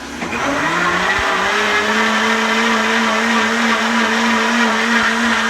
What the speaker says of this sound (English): she puts it inside the Homgeek Professional Countertop Blender, throws her cilantro in there, and she turns on the soup feature, and that grinds everything all up